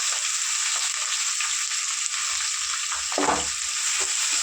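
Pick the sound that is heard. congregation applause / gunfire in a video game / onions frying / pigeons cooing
onions frying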